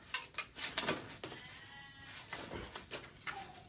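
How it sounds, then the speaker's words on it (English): Several sheep bleat in short overlapping calls, fairly close, with a soft clink in the background. "Oh, there's the sheep."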